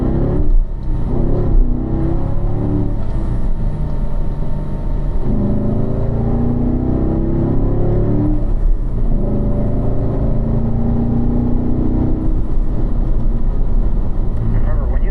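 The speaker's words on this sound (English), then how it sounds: "So we're going to accelerate up through the gears." A car accelerates up through the gears on a race track at a performance driving school, a steady engine rumble rising and falling with each shift, while an instructor talks over it throughout.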